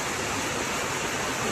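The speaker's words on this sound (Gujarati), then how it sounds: "એક ધાર્યો વરસાદ પડી ગયો છે ધમધમાઈને" Heavy monsoon rain pouring down: a dense, constant hiss of downpour filling the whole clip, loud and unbroken, with no voices.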